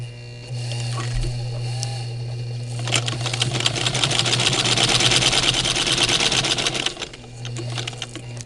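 A sewing machine with a slipping belt top-stitches a five-layer fabric face mask, humming as it starts slowly, then running steadily in a loud burst of stitching before slowing again.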